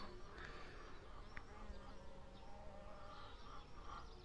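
Red mason bees (Osmia rufa) buzzing around a hive, a faint, steady hum of several insects with brief louder passes as individual bees fly close.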